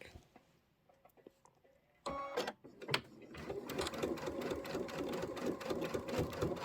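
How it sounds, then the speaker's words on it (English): A sewing machine with an open toe foot stitches in the ditch on a quilted pillow, starting with a few clunks and short bursts, then settling into a close, rapid, steady mechanical whirring rhythm. "I'm just going to take my time as I stitch in the ditch"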